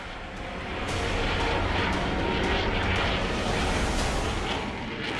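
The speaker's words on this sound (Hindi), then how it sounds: "में लैंडिंग और टेक ऑफ के साथ फाइटर जेट्स के संचालन का अभ्यास कर रही है।" Indian Air Force fighter jets roar during landing and takeoff drills on a highway runway, a sustained loud jet rumble that swells and eases, with no talk.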